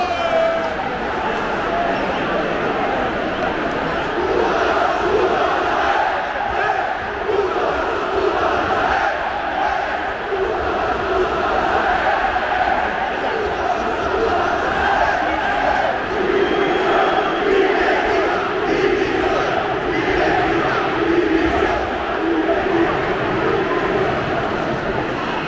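A large football crowd in a stadium where Barcelona have just won the Spanish league title, cheering and applauding continuously as a dense, loud roar with no breaks.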